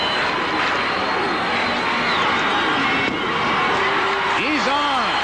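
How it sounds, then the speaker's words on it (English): Stadium crowd at a 1981 Oakland Athletics ALCS playoff baseball game, a steady loud roar of many voices filling the clip, with broadcast commentary and whistles rising over it near the end. "Listen to the crowd."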